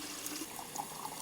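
Water pours steadily into an old brass watering can holding a plant tonic, a close, continuous splashing gush that stays even in level throughout.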